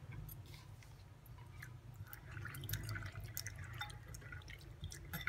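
Green peppercorns being rinsed in water for pickle, with soft drips, splashes and handling sounds close by, steady and low throughout, no talking.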